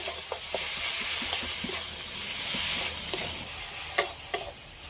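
Spice paste of turmeric, ginger and dried chili with salt sizzles in a pan, a steady frying hiss broken by spatula scrapes and a couple of sharper clinks near the end.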